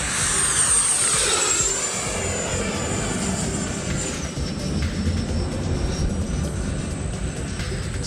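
E-flite F-16 RC model jet with a 70 mm ducted fan in flight on 22.9 volts, a loud, close, high whine that slides downward early on, then holds steady over a continuous broadband rush, with no talking.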